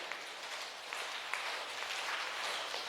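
An audience claps along during a Jain religious sermon in Kishangarh, Rajasthan, with faint, distant, scattered claps over a soft hiss of room noise.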